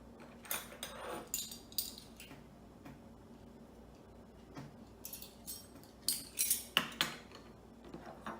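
A utensil stirs salt into water for Japanese rice balls, making soft clinks and taps against the container in uneven bursts, quiet and close with pauses between strokes.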